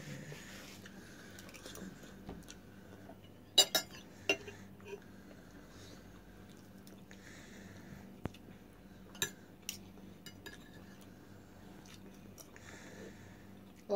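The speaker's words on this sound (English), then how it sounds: "I'm gonna start munching." Quiet breakfast of omelette, fried rice and noodles eaten with cutlery: soft chewing under low room noise, punctuated by several sharp clinks of utensils against dishes, scattered irregularly with faint background voices.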